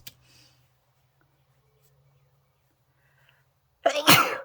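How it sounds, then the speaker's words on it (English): A single loud, sharp sneeze bursts out near the end after several seconds of near silence with faint background hum. "I'm about to sneeze."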